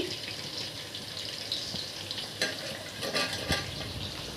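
Pitha frying in a pan gives a continuous, fairly close sizzle with a few sharper crackles and light stirring knocks.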